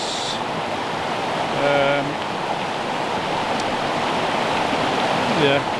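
Water pours over the waterfall at Nant Mill in North Wales, a steady broadband rush close by and uninterrupted, with a brief faint tonal sound partway through.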